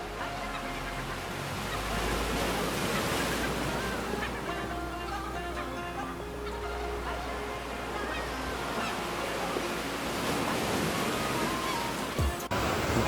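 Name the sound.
sea waves at Udaipur beach near Digha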